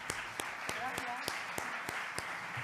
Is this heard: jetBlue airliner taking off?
no